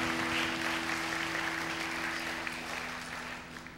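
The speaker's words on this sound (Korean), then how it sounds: "우리 큰 박수로 우리 축복해 주시기 바랍니다." A congregation applauding at a church completion service, a dense, steady wash of clapping from many hands that fades slightly toward the end, with a low steady hum beneath.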